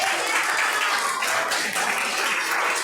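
Church audience applauding together, a dense, steady wash of clapping lasting the whole stretch at even loudness, with no voices breaking through.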